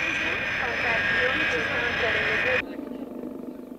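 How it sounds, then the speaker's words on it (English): A Boeing 707 freighter taxis at an airport, its loud, steady jet engine whine and roar close by before cutting off abruptly, leaving a quieter, rougher background. "A yellow Boeing 707 freighter lumbers to a parking space on the tarmac."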